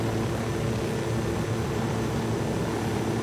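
A low, steady engine drone of an aircraft flying in the video game Ghost Recon Wildlands, a continuous broadband rumble with no talk over it, holding even in level throughout.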